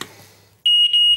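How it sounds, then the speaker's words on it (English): A new smoke alarm fitted during a home fire safety check sounds its test beep: a loud, steady high-pitched electronic tone with a brief dip midway, following a quiet moment. "What we'll do is we're going to replace that smoke alarm."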